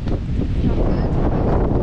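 Strong wind buffets the microphone at a campsite where a blow-up tent is being set up, a loud, continuous rumbling gust throughout.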